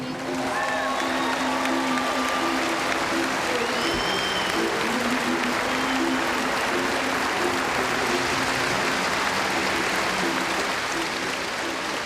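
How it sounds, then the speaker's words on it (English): Steady, even applause from a volleyball crowd saluting the all-tournament team at a tournament in Hawaii, heard at a moderate distance as a continuous wash that lasts the whole stretch, with a voice faintly audible under it. "another big round of applause for your all-tournament team."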